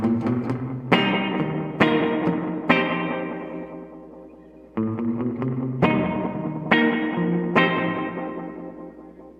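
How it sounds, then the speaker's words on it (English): An electric guitar plays through a Source Audio effects pedal with delay and reverb engaged. Strummed chords ring out one after another, each trailing into long repeating echoes, loud and alone. "So now, all I have to do to get my delay is hit that switch."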